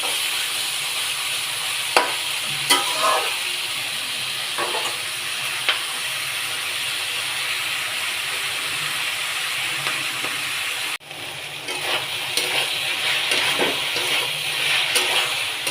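A bhaji of potato and onion greens cooks in a pan with a steady, moderate hiss and sizzle, broken by a few soft scrapes and clicks and one brief dip, with no talking.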